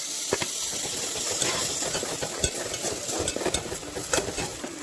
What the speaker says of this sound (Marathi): तेल सुटेपर्यंत परतायचं.